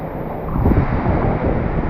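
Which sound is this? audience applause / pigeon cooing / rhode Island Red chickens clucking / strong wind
strong wind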